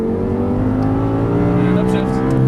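An Audi R8 revs hard on a race track during acceleration and an upshift, its engine droning loud and close with a strong, continuous tone.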